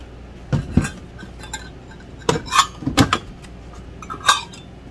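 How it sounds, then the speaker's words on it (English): A utensil stirring sugar into vegan lemon curd in a pot gives several sharp, close metallic clinks and knocks in scattered clusters, with quiet pauses between them. "I'm going to mix this sugar in"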